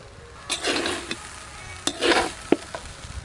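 A spoon scrapes and tosses vegetable fried rice in a pan in two short bursts of stirring over a low sizzle, with a sharp clink of metal near the end.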